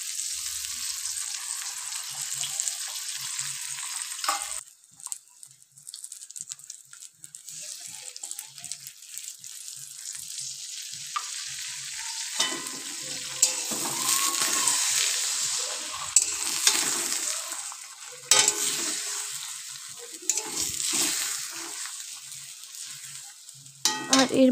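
Three beaten eggs fry and get stirred into a scrambled bhujia in a pan for egg chowmein, a steady hiss of sizzling with scraping stirs and occasional clatter, close and fairly loud, with a quieter stretch partway through.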